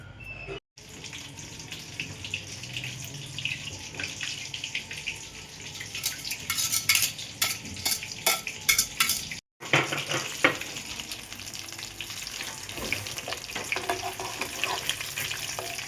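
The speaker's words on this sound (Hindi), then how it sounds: "इन सबको इस तरह से कोटिंग करके फ्राई करती हूँ बस फटाफट" Coated pieces fry in a pan in a home kitchen, a steady crackling sizzle with sharp popping bursts that runs throughout, broken by two brief silent gaps.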